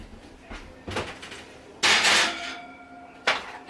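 Oven door and metal pans clattering as rum cakes are loaded into a 350-degree kitchen oven, with several knocks and a loud bang of the door shutting, then another thud.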